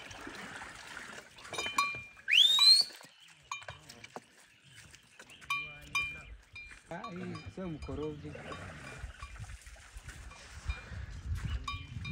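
Cows call out in short bleats and lows while being given water, amid scattered movement and clanking, with a voice speaking briefly in the background.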